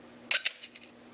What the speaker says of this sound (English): If you want to just slow it down so you can see the shutter better, we'll just bring it all the way down